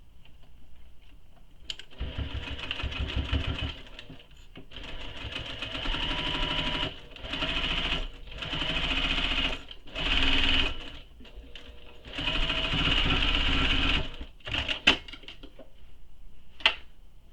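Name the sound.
sewing machine stitching a tote bag pocket opening closed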